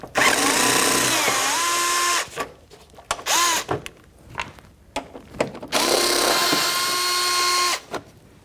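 Power gun with a 7mm socket spinning bolts out on a 2007-2014 Cadillac Escalade during rear control arm work, in two long whirring runs with short bursts and clanks between, close and alone.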